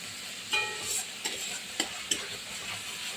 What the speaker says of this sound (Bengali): দেখুন লঙ্কা জিরে বাটা সব মশলা একসঙ্গে সুন্দর করে কষানো হচ্ছে।